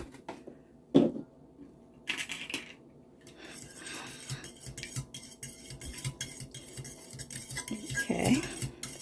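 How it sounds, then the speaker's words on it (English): Milk is mixed into homemade cornbread batter in a bowl. A spoon or whisk clinks and taps unevenly against the bowl, with a few sharper knocks and a busier stretch of rapid scraping near the end, close by and without talk. "and then I'm going to mix this together"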